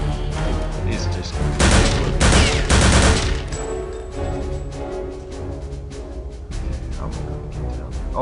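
Loud, dense gunfire in Return to Castle Wolfenstein, with heavy bursts of shots fired up through a floor clustered early on, then quieter scattered rounds and rumbling action continuing to the end.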